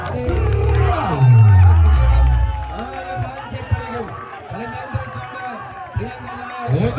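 Spectators at a match cheering and clapping as a loud crowd roar that fades into scattered hand claps and shouts, with an announcer's voice speaking over the noise.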